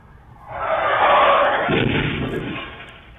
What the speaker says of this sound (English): Crash from earlier this month was caught on camera.